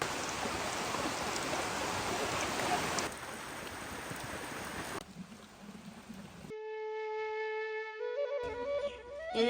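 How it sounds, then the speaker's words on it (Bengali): Steady rain patters down for several seconds, then thins out and gives way to a sustained, tonal horn-like sound. "আবারও শুরু হলো বৃষ্টি"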